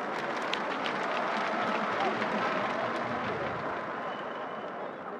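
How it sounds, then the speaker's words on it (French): An audience applauds at the inauguration of the Stade Abdoulaye Wade stadium in Senegal, a dense, steady wash of clapping that carries on for several seconds at moderate volume. "Ils méritent certainement nos applaudissements."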